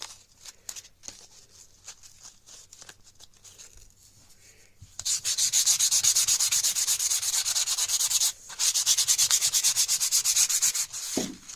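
Hand sanding of an old wooden gunstock with 180 grit sandpaper: quiet scattered scuffs at first, then a long run of rapid rhythmic rasping strokes, close up, with one short pause near the end.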